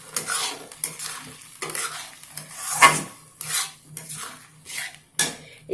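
Semolina and milk halwa being stirred in a pan, a close, repeated scraping of a spoon against metal in uneven strokes over a low background sizzle, with no talking.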